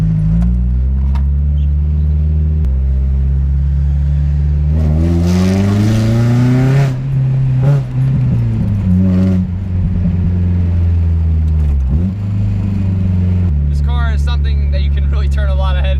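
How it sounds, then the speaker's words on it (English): A drifted, slammed, turbocharged Mazda Miata drives through town with a loud, booming engine drone that surges into a rising rev midway, then settles back to a steady rumble, with a voice talking intermittently over it. "I feel kind of like Rob Ferretti right now, driving through town, just blasting around. This thing is so fucking loud."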